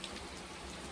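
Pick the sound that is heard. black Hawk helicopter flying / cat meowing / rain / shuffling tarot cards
rain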